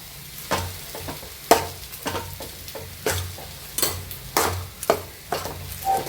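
A spoon stirs a banana stem and green gram stir-fry in a hot pan, giving repeated scraping strokes at an uneven rhythm over a soft, steady sizzle. The sound is close by, with no talking.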